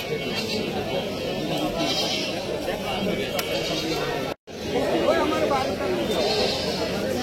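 A goat bleats at a busy livestock market selling breeds such as Totapuri, Gujri and Haryana, its calls mixed into constant crowd chatter and people talking nearby.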